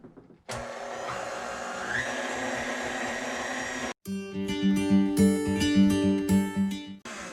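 An electric mixer works ensaymada dough with oil and salt in a steady whirring motor hum, which cuts off briefly and then restarts with a louder, pulsing labored drone.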